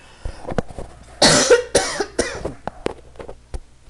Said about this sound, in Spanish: disculpen que me dio una tos.